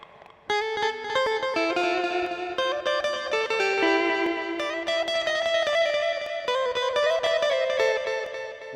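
An electric guitar played through a Zoom G1X ON multi-effects pedal with reverb, plucking a bright, echoing chicha-style melody that rings out steadily and alone after a brief quiet start.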